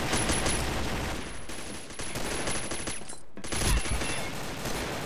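Dense automatic gunfire from the video game Combat Arms, sustained rapid bursts nearly filling the clip, broken by a brief pause near the middle before firing resumes loudly.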